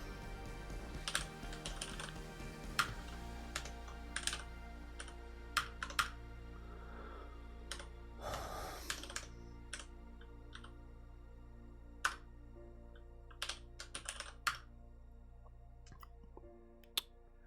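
Typing on a computer keyboard while coding, with a steady run of close, crisp key clicks and occasional louder keystrokes over a faint background hum.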